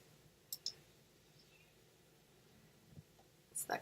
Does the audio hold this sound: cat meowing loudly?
no